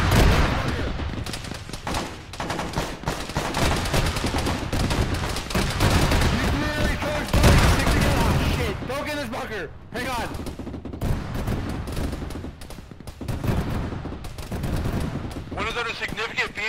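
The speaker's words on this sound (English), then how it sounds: "One of them is significant BMP 2 fire." BMP-2 gunfire in a military video game: loud, heavy bursts of automatic cannon fire and crackling rounds, rhythmic volleys continuing throughout amid battle noise, with voices talking over it.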